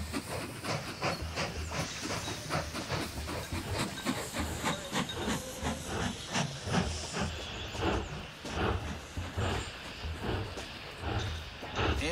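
Steam locomotive in the train-building game Mashinky hisses steadily and loudly throughout, a dense continuous rush of escaping steam with rhythmic chuffing pulses and no talk over it.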